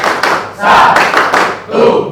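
A group claps in quick rhythmic bursts in a school chant, loud and close, with short pauses between the patterns.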